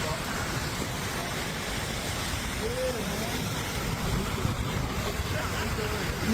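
Floodwater rushing down a swollen river after a hailstorm in Ohio, a loud, steady roar of churning water with faint wind, continuous throughout, while a voice talks briefly over it.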